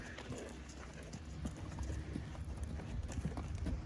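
A horse's hooves drum in a quick, continuous canter over the ground, soft and rhythmic under a steady background wash, moving at an even pace without pauses.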